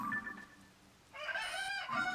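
Cucco chickens in Zelda Tears of the Kingdom give a few quick clucks and squawks over faint game ambience.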